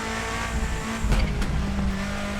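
A 1995 Subaru Impreza WRX STI powering out of a corner in the Assetto Corsa racing game, its engine straining hard with a brief chirp of tyre squeal and a surge midway, loud and close with no talk.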